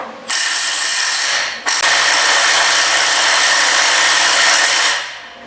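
A leaf spring bushing bolt is snugged up with a power tool: a loud, harsh, continuous ratcheting whir in two close bursts, with a brief break before the long second run. No one talks.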